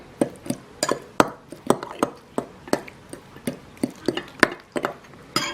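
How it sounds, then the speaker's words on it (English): A utensil stirs grated cheddar and Monterey Jack cheese with jicama in a bowl, making regular clinks and taps against the side at a steady rhythm, close and clear with no talking. "Give that a stir"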